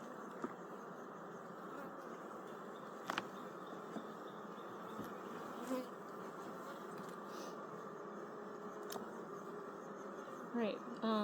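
Honey bees buzzing at an opened backyard hive, a steady faint hum of many insects with a few brief individual bees passing close.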